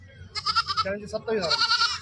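Goats bleating nearby at a goat market, a couple of wavering, quavering calls in quick succession, loud and close.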